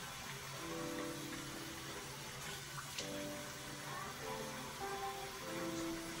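Water running from a tap into a container, a quiet, steady hiss and splash close by with faint shifting tones as it fills, no talking.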